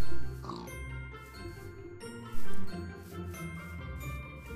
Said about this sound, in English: My flying pig.